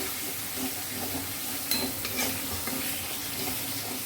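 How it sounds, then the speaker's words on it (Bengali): A paste of cashew, melon seeds and kasuri methi fries in a pan for a white potato curry, giving a dense continuous sizzle with a few soft stirring scrapes and clinks. "তিনটে একসঙ্গে পেস্ট আছে, কাজু বাদাম, চারমগজ আর কাসুরি মেথি বাটা দিয়ে ভালো করে আমি কষিয়ে নেব।"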